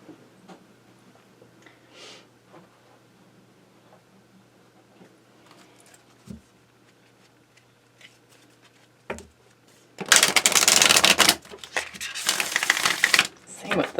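Tarot cards are shuffled in a riffling burst of crisp flutter loudest near the end, after a quiet stretch of faint handling and taps.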